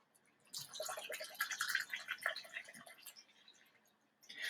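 Water is poured into a measuring cup, a soft trickling splash of liquid that runs for a few seconds, pauses, then resumes briefly; quiet and close.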